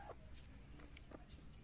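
Faint clucks from a farm chicken sound in a few short, soft calls against a quiet outdoor background, with no one talking.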